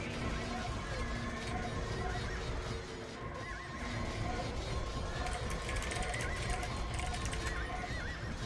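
Cavalry horses in a strategy video game neigh and whinny over a busy battle bed of clip-clopping hooves and clatter, loud and continuous, with people talking underneath.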